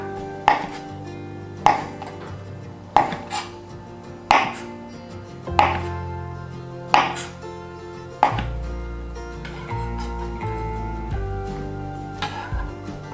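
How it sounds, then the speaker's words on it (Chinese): A knife cuts king oyster mushrooms into roll-cut chunks on a cutting board, about eight sharp separate chops at a steady unhurried pace, close and clear, followed by softer handling sounds. "首先呢，我们先把我们的杏鲍菇切成滚刀块。"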